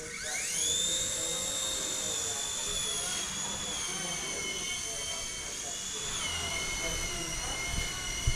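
An RC helicopter's motor strains at full power, a loud, steady high-pitched whine with layered harmonic tones that spin up at the start and dip slightly partway through, sustained throughout.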